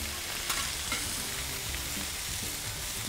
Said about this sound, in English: give our carrots a little flip here. Just utilizing both spatulas